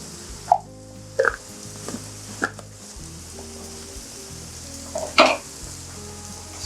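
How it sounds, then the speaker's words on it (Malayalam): Spice powders (turmeric, chili and garam masala) sauté in a pan for paneer butter masala, giving a low sizzle broken by a few sharp scraping stirs, with a faint steady hum beneath. "പൊടികളെല്ലാം ചേർത്ത് നന്നായിട്ട് വഴറ്റി പച്ചമണമൊക്കെ ഒന്ന് മാറിക്കോട്ടെ"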